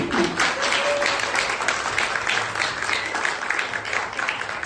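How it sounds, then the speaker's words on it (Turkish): Guests at a Turkish civil wedding ceremony break into steady, dense applause that holds at an even level throughout, a full room of clapping with no talk over it. "önce kuvvetli bir alkış alalım"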